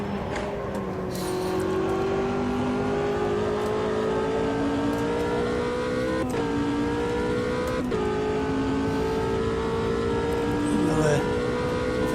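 Race car in the sim racing game Automobilista 2 holds a steady engine drone with harmonic tones rising gradually, briefly dipping at gear changes, tyre scrub beneath, continuous and fairly loud throughout.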